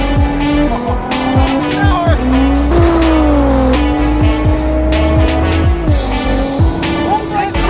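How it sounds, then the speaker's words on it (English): A tuned 2017 Nissan GT-R with about 700 horsepower revs hard, the engine note climbing and dropping in rapid shifts with a tyre squeal, loud and close, under excited talk. "This is his 2017 Nissan GTR."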